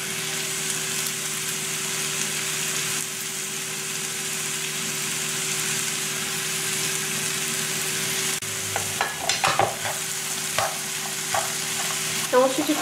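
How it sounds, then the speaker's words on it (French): Tortilla vegetable filling with garlic, salt and pepper sautés in a pan, a soft steady sizzle with occasional stirring scrapes and clicks toward the end, close by and without speech. "et ensuite il faut faire revenir ensemble jusqu'à ce que la farce soit bien réduite"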